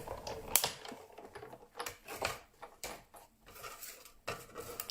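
Paper for a shaker card is cut with a series of short, crisp snips and rustles, close by and irregular, with small clicks between the cuts.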